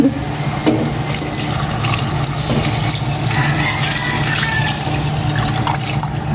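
Water pours steadily into a pot with a continuous splashing, gurgling rush, fairly loud and close, over a low background hum.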